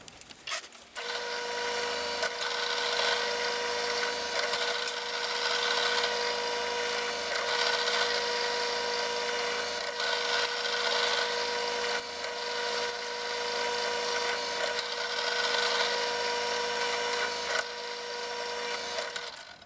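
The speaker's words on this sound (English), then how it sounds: "now I can go ahead and drill the holes in those pieces" A drill bores holes in steel bumper frame pieces for a DIY bumper on a 2500HD Chevy Silverado, a steady close grinding whine with a sustained tone that runs continuously for about eighteen seconds after a brief start.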